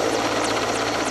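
A military helicopter's rotor chop and engine roar fill the air at a Nigerian Air Force special forces display, loud and steady with no talk.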